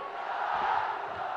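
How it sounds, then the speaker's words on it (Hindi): Rally crowd at a political event in Bihar cheering and chanting for the Prime Minister, a dense continuous roar of many voices, loud and steady throughout with no pause. "हम सब जोरदार तालियों से हम लोग स्वागत करें"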